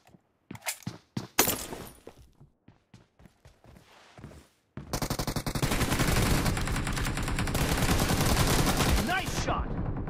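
Video game gunfire: a string of separate sharp shots at first, then after a short pause a loud, sustained automatic burst that rattles on for several seconds before cutting off.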